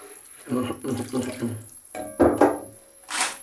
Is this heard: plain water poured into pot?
yes